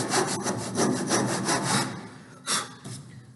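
A hand saw cuts wood for a dado joint, its strokes rasping in a steady back-and-forth rhythm, close and fairly loud, with a pause and then one more stroke near the end.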